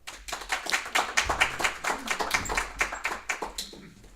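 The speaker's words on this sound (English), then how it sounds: "If we could please give a round of applause for Vicky Hayes." An audience at a book festival claps for an author, a sparse, fairly small round of distinct hand claps building quickly and then thinning out over a few seconds, fairly near.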